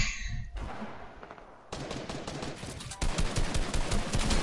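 Gunfire in Fortnite: rapid automatic bursts of close, loud shots, with a brief pause and then a denser, heavier stream of fire toward the end.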